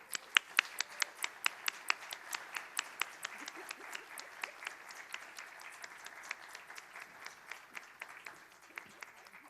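Applause for Dr. Nance at a community breakfast on Undoing Racism Day, heard as a thin, quiet patter of individual claps that stays steady throughout.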